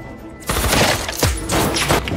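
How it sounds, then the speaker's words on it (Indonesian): A gunfire exchange in an action film erupts after a quiet moment: rapid overlapping bursts of automatic shots crackle loudly for nearly two seconds, with sharp individual blasts punctuating the volley. "Terjadi baku tembak setelah anak buah Gordon berdatangan."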